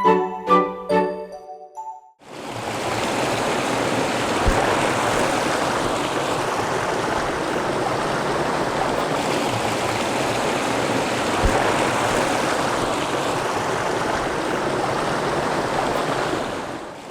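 Steady rushing of a stream flowing over and around strange rock formations beside an old pavilion, broad and continuous throughout, opened by a few brief tinkling notes before the water takes over.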